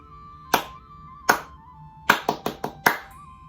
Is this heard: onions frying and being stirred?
no